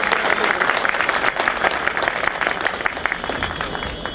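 A gathering of lawyers claps loudly and continuously, a dense crackle of many hands with distinct individual claps standing out, close and filling the whole stretch.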